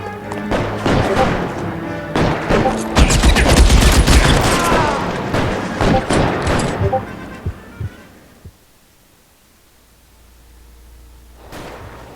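Rapid gunfire bursts from a shootout in the video game L.A. Noire, loud and dense for about eight seconds, then dying away into near silence before a brief final burst.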